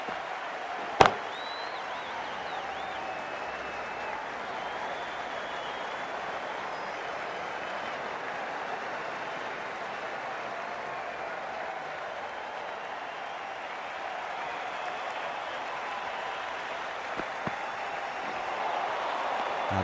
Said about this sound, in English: they'll receive a warm reception from the crowd